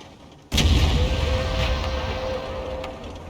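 In World of Tanks, a single heavy artillery shell lands with a sudden loud boom, followed by a long rumbling roar that slowly fades.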